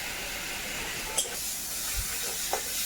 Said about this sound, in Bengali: এইবারে এই তেলের মধ্যে পেঁয়াজ রসুন আর আদা একসঙ্গে বাটা দেব